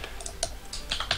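Quick keystrokes on a computer keyboard while typing in a game chat, a short close burst of crisp clicks in an uneven rhythm.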